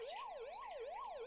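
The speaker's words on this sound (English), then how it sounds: "Does anyone else hear sirens?" A wailing siren in a video game sweeps steadily up and down in pitch, loud and continuous, with no voices.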